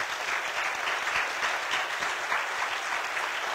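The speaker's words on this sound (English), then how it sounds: "give yourselves a round of applause" Sustained, dense applause from a large audience at a Portland, Oregon public forum on race and police accountability, loud and steady throughout without a break.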